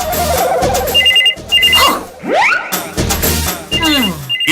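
A telephone bell rings in short repeated bursts in a comedy show scene, loud and close, broken up by whooshing and crashing sound effects between the rings.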